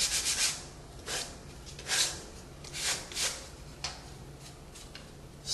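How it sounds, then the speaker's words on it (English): A sanding paddle smooths a drywall patch around a thermostat, giving soft rhythmic rasping strokes, about six separate swipes at a moderate pace, close but fairly quiet against a low room hum. "the sanding paddle comes in handy for lots of things"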